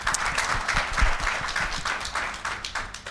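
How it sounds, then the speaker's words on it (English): A conference audience applauds a speaker named Des with dense, sustained clapping that stays fairly even and loud across the whole stretch. "Massive round of applause for Des once again."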